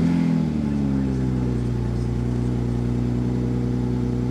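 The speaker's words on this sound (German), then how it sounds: "Ich lasse jetzt extra mal die Tür auf, um einfach mal den ersten Sound, den ich von dem Auto überhaupt höre," A 2020 Toyota GR Supra with a 340 PS six-cylinder engine fires up, a brief starter burst settling at once into a smooth, steady idle hum, close and alone.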